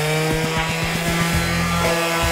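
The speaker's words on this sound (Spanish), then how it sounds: "lo cual vas a proceder en este momento a lijar este" A power sander buzzes steadily against wood, its motor hum rising and shifting pitch as it passes over the surface, loud and close.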